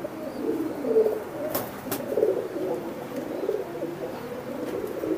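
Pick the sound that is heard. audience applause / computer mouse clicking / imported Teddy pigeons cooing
imported Teddy pigeons cooing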